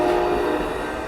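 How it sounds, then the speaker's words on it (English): An Amtrak Coast Starlight train pulls away along the street at Oakland's Jack London Square, a loud, steady rumble of rolling cars with a tonal horn-like hum at the start. "that train is off to Seattle"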